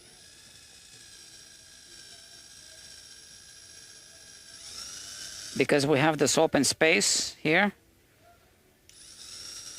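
An electric drill with its bit boring into a Stratocaster guitar body during a wiring mod gives a steady mechanical whine that swells and grinds, then breaks off while a person talks close by before the drilling resumes.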